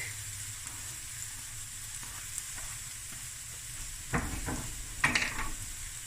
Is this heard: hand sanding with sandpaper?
no